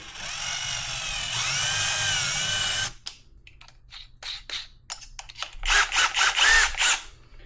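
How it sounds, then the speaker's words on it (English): A small electric drill with a small bit whines at high pitch for a few seconds, then stops; several short bursts of drilling follow in quick succession. "So we'll use a small drill bit."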